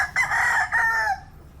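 A breeding gamecock raised for fighting, with shiny grey plumage, crows once, loud and close, in a single drawn-out call with a brief break near the start and no other sound around it.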